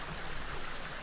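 Water pours steadily at St Nectan's Glen waterfall, a dense, continuous rushing roar with no gaps, fairly close and alone.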